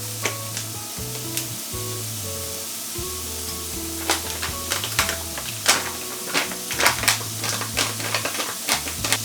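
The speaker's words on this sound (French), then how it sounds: "je viens y ajouter mes lardons." Lardons sizzle in a pan for a tartiflette-style tart, a continuous close crackling fry with sharp popping spatters and occasional scraping as they are moved about.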